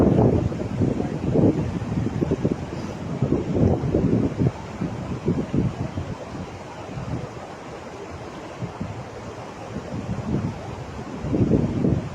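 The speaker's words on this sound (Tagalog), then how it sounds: "Medyo mahangin na" Wind blows hard against the microphone in uneven gusts while hook fishing by the water, heavy low-pitched rumbling that surges, eases off in the middle, then picks up again.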